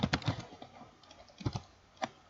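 A handful of keystrokes on a computer keyboard while entering data in an Excel spreadsheet, several quick taps followed by a pause and one last isolated press.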